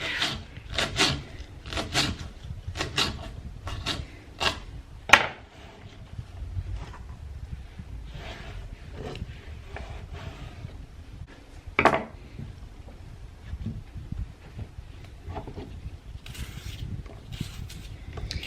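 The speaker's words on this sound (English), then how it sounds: "I'm gonna just continue with my chopping up and soup making." Vegetables being chopped with a knife on a board for a Sunday soup, a run of sharp, fairly close taps in quick bursts, then sparser single chops separated by pauses, with no voices.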